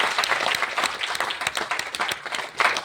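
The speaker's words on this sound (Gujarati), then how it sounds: "એકવાર મારા વાઈફ માટે જોરદાર તાળી" Seminar audience clapping for the speaker's wife, a lively continuous round of applause with close, sharp individual claps and a slight surge near the end.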